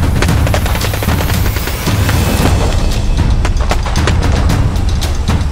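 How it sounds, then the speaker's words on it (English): Rapid bursts of gunfire crackle and pop in Prekaz, Kosovo, against a rumbling, booming background, shots repeating irregularly and loudly throughout. "As gunfire echoed throughout Prekozi"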